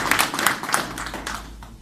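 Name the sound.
audience applauding the baby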